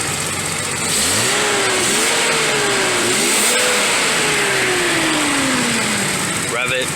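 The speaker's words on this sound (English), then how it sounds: "rev it once or twice." A Datsun 280ZX with a minor head gasket leak revs up from idle, the engine climbing and falling through several throttle blips, then a long steady descent back toward idle, close and loud.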